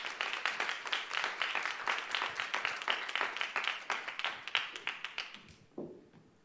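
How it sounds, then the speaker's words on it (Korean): A church audience at a youth service claps in welcome, a steady patter of many hands that holds for several seconds before quickly dying away. "박수로 환영해 주시면 좋겠습니다."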